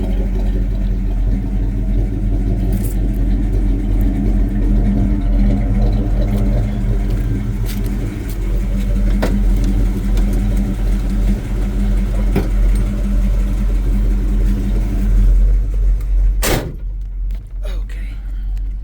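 A 1984 Chevy C10 pickup truck engine drones steadily while driving, a loud low rumble filling the cabin throughout, with a sharp clunk near the end as the sound drops.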